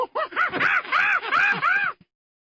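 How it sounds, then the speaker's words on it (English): A monkey call in a series of rising and falling whooping hoots, about six in a row over two seconds, loud and close with nothing else heard. "This is the sound a monkey makes."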